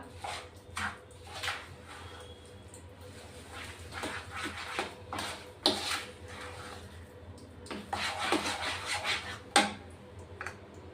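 Curd and water dhokla batter being mixed in a bowl, heard as intermittent scraping and rubbing strokes close up. Bursts of sloshing alternate with quieter pauses, and no one speaks.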